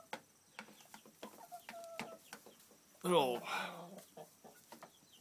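A small backyard flock of hens and roosters, including black sex link hens, clucks and calls close by, one loud drawn-out squawking call standing out amid scattered softer clucks while a person talks quietly.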